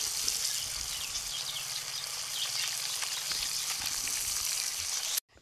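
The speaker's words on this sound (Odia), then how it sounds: "ଏବେ ବୋଉ ମାଛ ଭଜୁଛନ୍ତି, ଆମର ଏବେ ମାଛ ଭଜା ହେଉଛି" Fish fries in a pan with a steady, dense sizzle and crackle, close and continuous, ending abruptly in silence.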